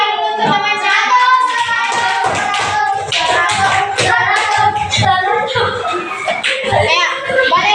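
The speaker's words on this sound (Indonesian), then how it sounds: "tepuk tangan dulu untuk teman satu" Students in a classroom clap together, loud and close, in a dense burst of hand claps with children's chatter and voices running over it throughout.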